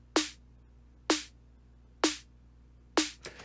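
Layered snare drum sample from an electronic music production project, four sharp, bright hits about one second apart with quick decays, isolated and close.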